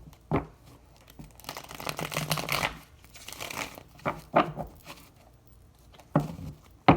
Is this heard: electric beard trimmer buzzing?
no